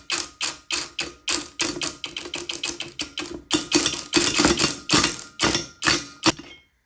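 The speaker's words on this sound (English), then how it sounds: "using my impact, I just spun it into the new tank, being careful not to cross thread it" A cordless impact wrench spins a blanking plug into a new steel air tank on a Mercedes Vario truck, hammering in a rapid series of loud sharp rattling bursts with short pauses, ending in silence.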